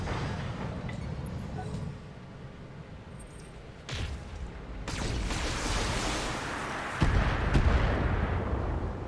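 Mobile artillery in the BattleTech video game, with heavy booming impacts and rumbling blasts building over several seconds into a loud sustained roar of explosions.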